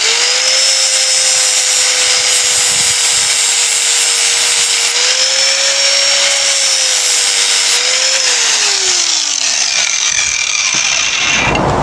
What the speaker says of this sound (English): you find me grinding away the metal of this new lock stop we added some time ago